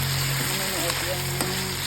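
Fried chicken being stirred in a pan with sautéed ingredients for chicken estofado, a steady close sizzle with brief scraping stirs over a low background hum.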